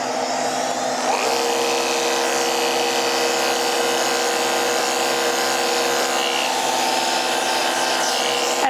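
Electric dog clippers run steadily during a sanitary trim on a Scottish Terrier, a close, continuous high-pitched buzz held at an even level throughout with no talk over it.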